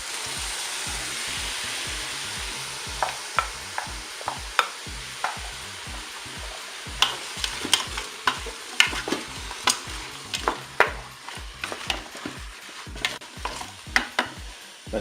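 Apples and mushrooms are stirred into a pork roast in a Cookeo cooker over a constant sizzling hiss. A spoon scrapes the pot with repeated sharp clacks that grow more frequent in the second half.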